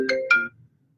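A phone sounds two quick bright ringtone chimes for an incoming live video call, clear and close, then falls silent.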